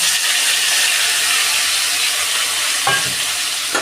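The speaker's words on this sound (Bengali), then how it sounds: "এখন আমি মূলো কুচোটা দিয়ে দেব," Chopped radish tossed into hot oil in a wok after a cumin and dried red chilli tempering, giving a loud, dense, continuous sizzle with a brief clatter of stirring near the end.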